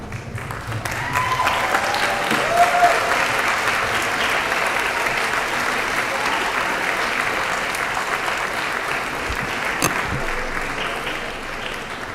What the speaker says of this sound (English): I'd like to ask all the graduates to stand up, turn around, and applaud your family and friends for their unwavering support